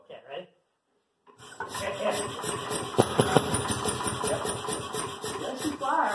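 A Fairmont railway speeder's small engine starts after a brief silence and then runs with a rapid, uneven rattling putter, loud and close, slightly irregular from a leaking carburetor, with a few sharper knocks mixed in.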